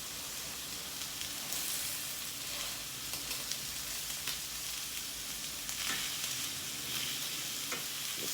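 Steak fries in a pan with a steady, crackling sizzle that is close and continuous, with small spatters and pops all the way through. No voices are heard.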